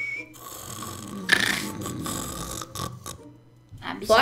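A Minecraft game character snoring in loud, rasping, gurgling bursts, with game sounds and short blips around it and no speech over it.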